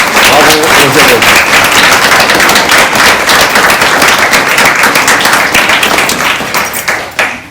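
Audience at a graduation ceremony applauding: dense, sustained clapping from a crowd for several seconds, loud and steady before thinning slightly near the end, with a voice faintly mixed in.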